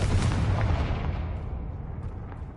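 A Confringo fire spell in Hogwarts Legacy erupts as a deep, booming blast with a rolling low rumble that slowly fades over a couple of seconds, heard alone.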